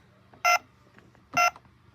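A toy ATM's buttons give two short, loud electronic beeps about a second apart while its clock time is set, with only faint background noise between them.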